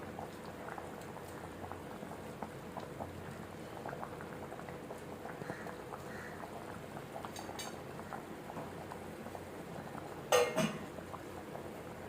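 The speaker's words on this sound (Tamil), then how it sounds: "ஆஹா, நல்லா கொதிக்குது." Kerala-style fish curry bubbling away in a pot, a soft, steady simmer of small pops and bursts heard close, with one brief clatter of a utensil near the end.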